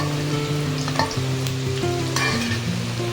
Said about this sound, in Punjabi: ਇੱਕ ਸਕਿੰਟ ਦੇ ਅੰਦਰ ਅੰਦਰ ਹੀ ਆਪਾਂ ਨੇ ਪਾ ਦੇਣਾ ਇਹਦੇ ਵਿੱਚ ਪਿਆਜ਼